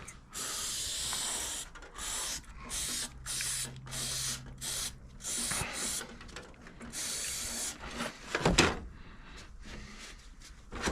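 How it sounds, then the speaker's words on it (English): Brake cleaner hisses from an aerosol can in repeated short bursts onto the front sprocket nut of a Suzuki V-Strom 1000 motorcycle, close and sharp, with pauses between sprays. "Spray off this nut."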